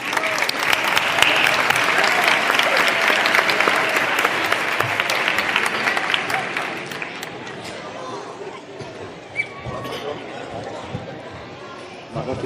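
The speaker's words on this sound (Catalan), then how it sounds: "Un aplaudiment per a Joan Vila." A school crowd breaks into sustained applause at a tribute concert for a Catalan singer, dense clapping with cheers and chatter that gradually thins toward the end.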